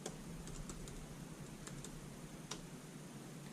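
A password typed on a Mac keyboard with super fast keystrokes, a faint scatter of quick light clicks in small clusters over a quiet room hum.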